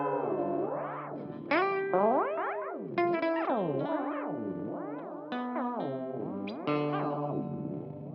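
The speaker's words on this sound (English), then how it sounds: "So you can go from kind of a chorusy Leslie-ish sound to a more tremolo kind of effect." Guitar run through an effects pedal, moving from a chorus-like Leslie swirl to a pulsing tremolo with the depth turned fully up, making a warbling, wobbling tone in which the notes re-attack every second or so.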